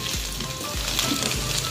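Oregano and salt fry in a pan for white-sauce pasta, giving a loud, continuous close-up sizzle with a few soft scrapes and no voices.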